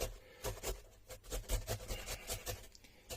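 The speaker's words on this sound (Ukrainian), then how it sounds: "беремо, ріжемо пополам і натираємо, щоб шкірка лишилась в руках" Halved tomatoes rubbed by hand against a grater for Odesa-style chopped eggplant caviar, giving a steady series of close, soft rasping strokes with no voice over them.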